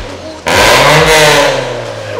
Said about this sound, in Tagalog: Ganyan talaga tunog ng Toyota.